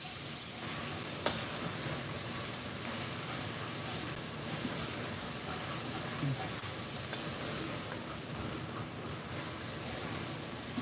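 Chopped bell pepper, celery and onion sizzle steadily in a hot pan, a dense continuous frying hiss held close and even throughout, with faint stirring.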